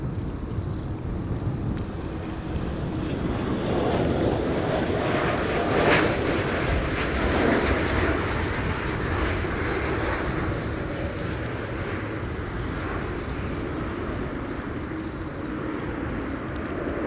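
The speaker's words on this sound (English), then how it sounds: "Turkish Cargo is arriving with an A330 in a moment with cargo" A Turkish Cargo Airbus A330 arrives at windy Amsterdam Schiphol, its engines a steady, moderately loud rumble with a rising whine, heard alone without talking.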